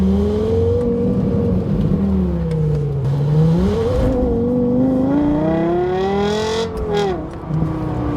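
A Lexus LFA engine in sport mode accelerating, a loud, close, rising engine whine with steady revs climbing through gears and a brief dip at a shift, no talk.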